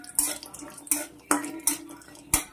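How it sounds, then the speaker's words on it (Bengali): Cashews frying in hot oil with garam masala in a pan, heard as five or so sharp metallic scrapes and clanks from stirring, spaced about half a second apart over a low, steady background. "কাজুটা হালকা ভাজা ভাজা হোক।"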